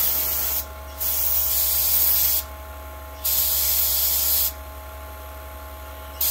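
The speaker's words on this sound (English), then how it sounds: "And now then we'll get ready to start spraying it." Bursts of aerosol spray hiss against a Harvest Right freeze dryer sensor being tested for a vacuum leak, three sustained sprays separated by short pauses over a steady low machine hum.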